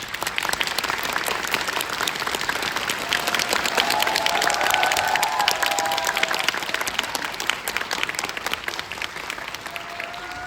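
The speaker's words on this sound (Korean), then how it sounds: "우리 크게 하는 박수를 보내드리면서 그 감독님을 무대로 모셔보도록 하겠습니다" A cinema audience at a film director's Q&A event in a Seoul theater bursts into sustained applause, a dense, loud roar of clapping swelling in the middle, with faint cheering underneath.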